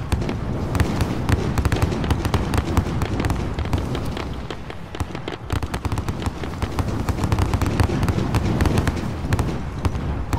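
Dense, continuous barrage of booming explosions and rapid gunfire-like cracks in the video game Warzone, loud and close, with no pauses.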